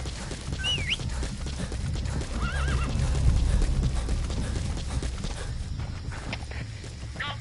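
Hooves clip-clop steadily while a horse whinnies and snorts in the video game Metal Gear Solid V: The Phantom Pain, set against a busy outdoor ambience with a bird chirping now and then.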